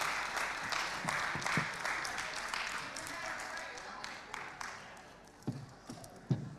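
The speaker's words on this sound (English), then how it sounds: "You want to give your candidates an applause here?" An audience at a candidates forum in Springfield, MA applauds, a sustained wash of clapping from a modest crowd in a hall, fairly faint, with a few louder individual claps near the end and voices underneath.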